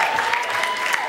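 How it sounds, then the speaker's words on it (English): Crowd applause at a variety show's gong show night in Austin, a sustained burst of many hands clapping with a few sharper claps standing out, fairly loud and close. "give a big round of applause for Minister Sin."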